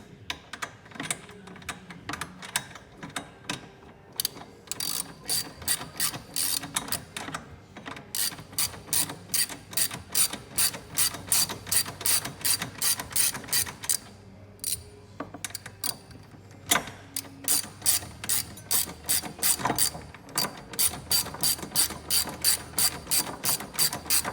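Hand ratchet with a swivel and extension tightening front bumper bolts on a Kawasaki KRX 1000 side-by-side, rapid clicking bursts repeated in quick runs with short pauses, close and clear, no talking.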